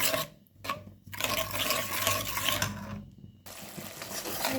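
Curry powder spices and salt being stirred and fried in a pan, giving a close, continuous scraping and rasping with brief pauses, no talking.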